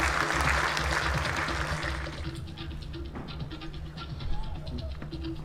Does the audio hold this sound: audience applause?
yes